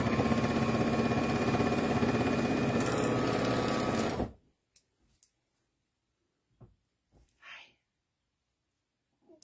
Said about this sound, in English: I like to run a serger stitch along the bottom here just to hold it all together and clean it up